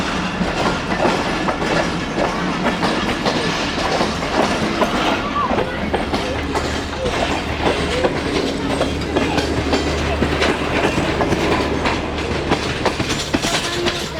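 A Pakistan Railways train on its Rawalpindi route, steady rolling rumble with clickety-clack of wheels over rail joints, loud and close, a low engine drone settling in partway through.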